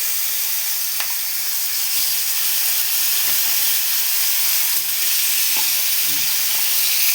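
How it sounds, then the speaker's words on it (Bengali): Hilsa fish frying in a home kitchen, a steady loud sizzle and hiss of hot oil with a few sharp pops and spatters scattered across the span, no talking. "এই হচ্ছে ইলিশ মাছ ভাজা হচ্ছে"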